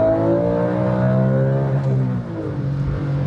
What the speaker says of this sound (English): The way it revs and the way it sounds and the way it moves